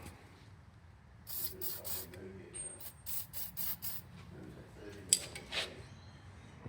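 Penetrating lubricant sprayed from an aerosol can onto rusty truck door hinge bolts, heard as several short hissing bursts at close range followed by a few light metallic clinks.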